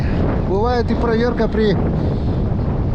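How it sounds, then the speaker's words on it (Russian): Strong, icy autumn wind with rain roars steadily across the microphone on a fishing trip, a loud, constant rush, while someone talks over it. "Ветер все сильнее и сильнее."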